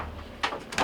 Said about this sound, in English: Shut the door, makes it a little bit easier to handle the door.